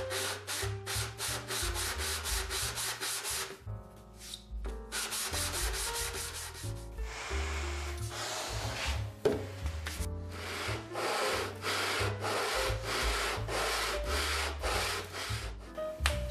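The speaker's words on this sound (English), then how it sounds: "I have a little sanding to do here and there with the panels" Wooden speaker box panels are sanded by hand, with rhythmic back-and-forth rubbing strokes that come in steady bursts, broken by short pauses and a few brief knocks, close and clear.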